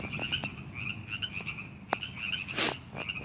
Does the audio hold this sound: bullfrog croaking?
yes